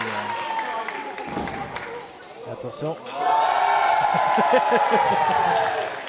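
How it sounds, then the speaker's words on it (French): A crowd at a wrestling match applauds and cheers, rising into a sustained roar in the second half while a commentator talks over it. "Et lui aussi il se fait applaudir."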